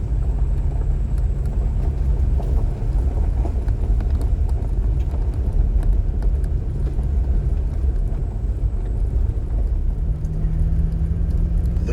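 A car driving along a partly worked gravel road through a wildlife management area, heard from inside as a loud, steady low rumble and crunch of tires that carries on without a break and without talk.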